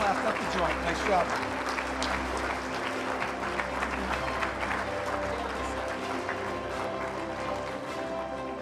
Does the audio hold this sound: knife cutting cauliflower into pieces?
no